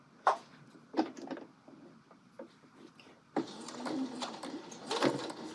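A sewing machine stitches a seam on a colorblocked coat, first in short, separate bursts and then running steadily for the last couple of seconds at close range.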